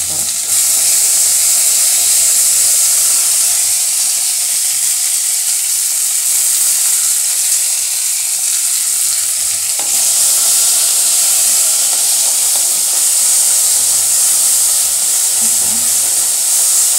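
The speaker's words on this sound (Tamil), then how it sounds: "தக்காளி நல்லா வதங்கிட்டேன்." Tomatoes fry in oil for a brinjal and potato kara kuzhambu, a loud, continuous hissing sizzle held close for many seconds with faint stirring underneath and no talking.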